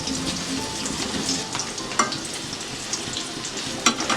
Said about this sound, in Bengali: আলুগুলো আমি সোনালি কালার করে ভেজে নিচ্ছি।